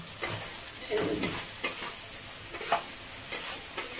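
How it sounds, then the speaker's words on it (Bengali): A spatula stirs spice paste with chili powder, turmeric and salt frying in oil in a pan for a chicken curry, giving a steady sizzle broken by repeated scraping strokes. "দেখুন মশলাটা ভাজা হয়ে গিয়েছে"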